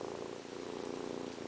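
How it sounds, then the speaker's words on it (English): A shelter cat at a county humane society purrs steadily and close, a low continuous rumbling throughout with no talking. "she has the best purr here."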